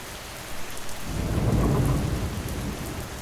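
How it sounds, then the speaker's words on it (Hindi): Heavy rain pours onto a wet tin roof, a dense steady drumming that swells midway with a low thunder-like rumble, with no voices. "बरसात अब बूंदों से तेज।"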